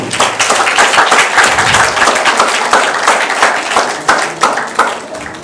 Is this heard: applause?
yes